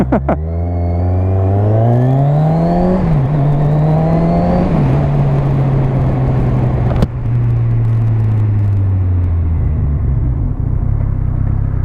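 A 2017 Kawasaki Z1000 motorcycle on a test ride, its engine revving up through rising gears with a strong, close whine and rumble, then settling into a steady, loud cruising drone with wind noise and no talk.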